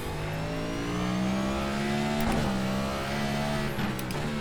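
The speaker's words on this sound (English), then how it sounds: "So I'm kind of downshifting quicker than I normally would, just because the engine braking is very helpful with these" A NASCAR Cup car in the iRacing video game downshifts under engine braking, its engine note stepping through gear changes with whining harmonics and brief blips, fairly close and unbroken, with no talking.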